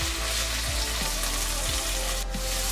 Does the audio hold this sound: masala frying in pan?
yes